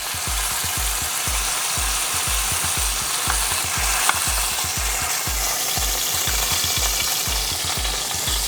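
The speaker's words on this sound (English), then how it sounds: "This has been sizzling away pretty good." Pork frying in a pan gives a steady, loud, dense sizzle with rapid crackling, constant throughout with no voices.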